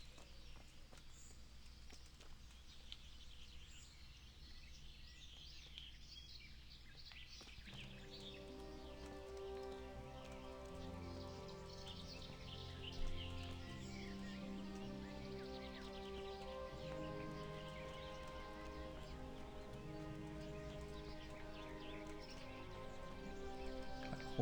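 Horse hooves clop steadily at a slow walking pace in the video game Kingdom Come: Deliverance, fairly faint, joined partway through by swelling music and occasional birdsong.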